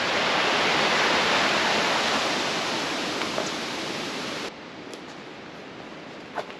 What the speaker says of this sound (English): Another little mini waterfall we got going.